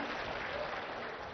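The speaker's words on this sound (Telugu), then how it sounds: "గట్టిగా చప్పట్లు కొట్టి అభినందించండి." An audience at a public government event claps in a dense, continuous burst, filling the moment with steady, even applause.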